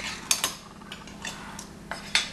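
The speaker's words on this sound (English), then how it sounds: "I'm going to borrow my spoon from over here and get this removed from the container and into my blend." A metal spoon clinks and scrapes a few times against a container as condensed cream soup is scooped out for a broccoli-rice casserole, with faint quiet gaps between the taps.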